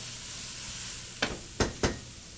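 Vegetables sizzling in a pan, stir-fry style, a continuous soft hiss and sizzle, then three sharp stirring scrapes or bursts in quick succession near the end.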